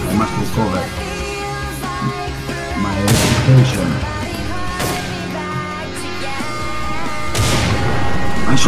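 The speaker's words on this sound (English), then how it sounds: "I shoot him again" Video game gunfire cracks out in several loud, spaced bursts, around three and five seconds and again near the end, over a dense background of game music and noise.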